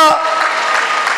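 An audience at a family achievers' reunion event claps in a brief burst of applause that follows the tail of a voice.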